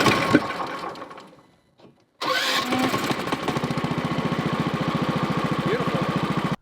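A Duromax engine in a mini Jeep turns over after a brief gap and settles into a loud, steady idle with a fast, even pulsing rhythm, close by.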